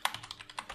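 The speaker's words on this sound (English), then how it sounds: "my typing is really bad" Computer keyboard keys typed while coding a Kotlin program: a quick, close burst of about seven crisp clicks in under a second, with no talking.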